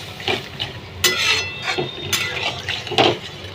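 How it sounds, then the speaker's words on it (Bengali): Chana dal being stirred with onions in a pan, a spoon scraping and clinking against the metal in several separate strokes over a soft sizzle, close and fairly loud with no talking. "দিয়ে এর সঙ্গে আরেকবার একটু ভালো করে নেড়ে নিতে হবে।"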